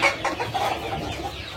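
Roughly thirty chickens cluck continuously in a 2.5 by 3 metre rearing coop, a dense, close chorus of overlapping calls.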